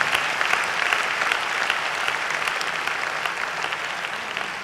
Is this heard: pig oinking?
no